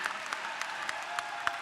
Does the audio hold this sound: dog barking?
no